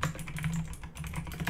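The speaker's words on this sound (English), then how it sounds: "I'm just going to go ahead and type in" Quick typing on a computer keyboard, soft close clicks in an irregular run of keystrokes over a low steady hum, faint and brief.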